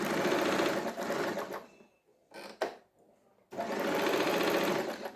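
A sewing machine runs steadily, stitching fabric cut from an old nightie, pausing briefly in the middle before resuming its loud continuous whir.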